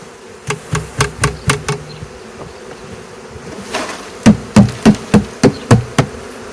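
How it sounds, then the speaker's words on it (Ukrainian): Honeybees buzz steadily in a swarm trap while a series of sharp, rhythmic knocks taps out in two bursts, loud and close. "Така кількість бджоли в пастці."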